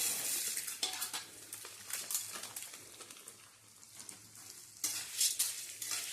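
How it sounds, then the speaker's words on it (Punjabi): Edible gum for panjiri roasts in a pan, giving a soft crackling sizzle with intermittent scraping strokes of a spoon against the metal, quiet and close, with no speech. "ਹੁਣ ਆਪਾਂ ਗੁੰਦ ਭੁੰਨਾਂਗੇ ਜੀ ਸਾਰੇ"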